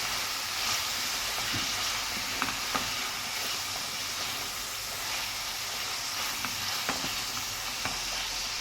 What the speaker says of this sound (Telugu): ఇప్పుడు ఉల్లిగడ్డలు వేసేసి దీంట్లో కొంచెం అల్లం వెల్లుల్లి పేస్ట్ అనేది వేసాను